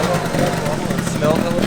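A 1989 Yamaha Zuma two-stroke scooter idles close by with a brief, buzzy, uneven putter, while a person talks over it.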